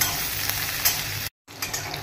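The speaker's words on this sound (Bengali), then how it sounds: "ওলটা লাল লাল করে ভাজা হয়ে গেছে একটু" Boiled elephant foot yam fries with raw onion and green chillies for a Bengali oal posto dish, a dense close sizzle with stirring scrapes that briefly cuts out before resuming, and nobody speaks.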